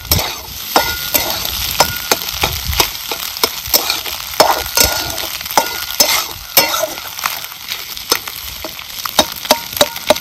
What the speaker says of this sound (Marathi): अंडे आपण तेलात सोडली का नाही चांगली अशी परतून घ्यायची